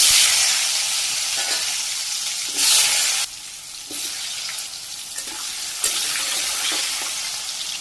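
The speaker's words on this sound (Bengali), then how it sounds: "আলু চুলাই দিয়ে দিছি," Turmeric, chili and salt coated potatoes frying in hot oil in a wok in a Bangladeshi village kitchen, a steady loud sizzle and hiss with brief bursts of stirring and spattering, no voices.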